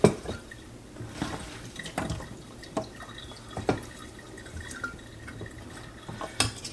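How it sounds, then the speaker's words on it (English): Filtered tap water trickling and dripping into a glass jar of apple scraps, with a run of soft, irregular splashes and drips at close range, quiet and with no voices. "Now we are going to fill our jars with water, and I'm going to use my filtered water from my sink."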